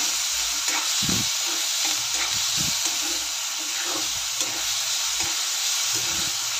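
Chopped onion and tomato fry in a pan as they are stirred, giving a steady close sizzle with soft, irregular scraping and stirring knocks throughout.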